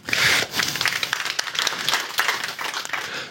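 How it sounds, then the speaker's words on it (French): A live audience at a science conference-demonstration on Neanderthal chemistry bursts into dense applause, many hands clapping loudly at first and then continuing in a slightly thinner, steady patter. "On peut t'applaudir."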